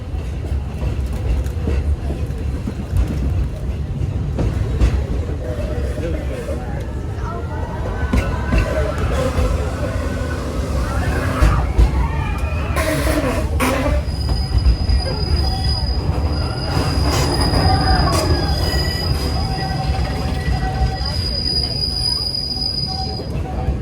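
Big Thunder Mountain runaway mine train ride at Magic Kingdom, a steady rumble of rolling coaster cars with squealing wheels and high screeches throughout, under scattered crowd voices.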